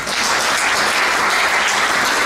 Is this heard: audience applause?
yes